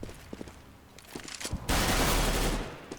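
Gunfire erupts in a Counter-Strike match on the Cache map: a few scattered footsteps and faint shots, then a sudden dense, loud burst of sustained fire lasting about a second before cutting off.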